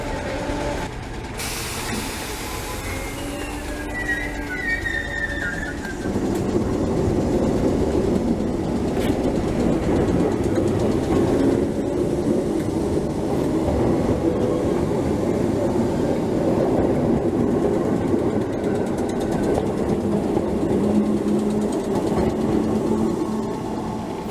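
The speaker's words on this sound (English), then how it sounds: "These Merseyrail trains are soon to be replaced." Merseyrail third-rail electric train at Chester station, with a hissing rumble and wheel clatter that builds and holds steady as the train moves nearby, underlaid by a faint electric whine.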